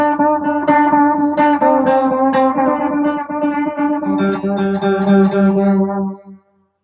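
Modulated, chorus-like guitar echoes from a TC Electronic delay pedal, loud and continuous for about six seconds, with repeating sustained tones that smear together under heavy modulation before cutting off abruptly.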